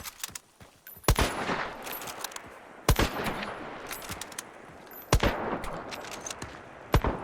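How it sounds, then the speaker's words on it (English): Bursts of gunfire in Hunt: Showdown 1896 as a player shoots an opponent's ammo, several sharp loud shots spaced a second or two apart over a noisy game background. "I'm gonna shoot all of his ammo."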